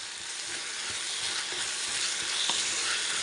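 Salted onions or vegetables sauté in a hot pan with a steady, close sizzle and frying hiss, plus faint stirring scrapes now and then. No voices are heard.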